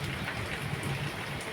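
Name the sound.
heavy unseasonal rain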